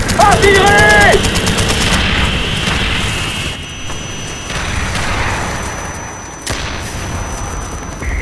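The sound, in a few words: artillery fire and gunfire in Call of Duty Black Ops video game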